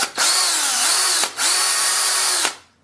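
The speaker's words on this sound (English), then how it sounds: "It's an 18-volt drill." An 18-volt cordless drill whirs loudly and close up in three bursts, its high steady motor whine briefly dropping between runs before spinning down at the end.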